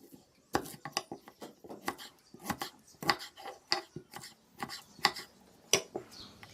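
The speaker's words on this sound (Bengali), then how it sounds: "এখন আমি আমগুলো কেটে নেব। কিভাবে কাটছি সেটা দেখতে থাকুন।" Raw green mangoes being cut with a knife, a run of crisp, close chopping strokes in an irregular rhythm, each cut a sharp clack against the board.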